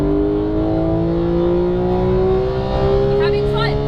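A Porsche 911 GT3 accelerates at full power on a track in Las Vegas, its engine note climbing in steady rising harmonics, loud and close from inside the car, with a voice briefly talking over it near the end.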